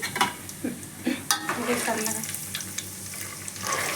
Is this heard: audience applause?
no